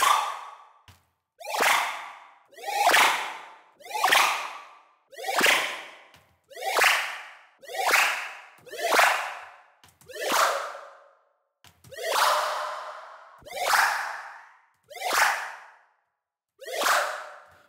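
Repeated space whip zaps synthesized in Native Instruments Massive, about a dozen in a steady rhythm, each a bright sweeping crack with a short decaying tail, no talking.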